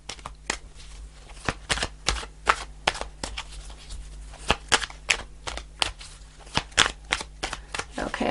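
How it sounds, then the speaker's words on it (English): Tarot cards being shuffled by hand, a string of quick crisp riffling snaps and slaps in uneven bursts, close and fairly loud, with no talking. "Okay, I'll do a few more shuffles"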